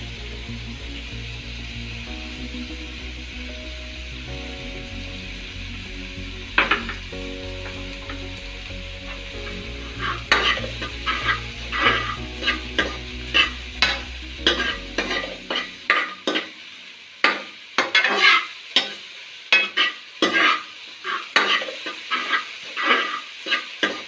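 Garlic frying in a pan with oil for shahi paneer crackles and sizzles, first under a steady hum and then as a quick series of sharp scraping stirs of a spoon against the pan, close and loud.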